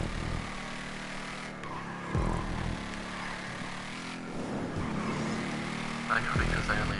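Engines roar and tires skid through a GTA V car race, a steady loud drone broken by a few sharp swells and squeals, with a voice speaking over it.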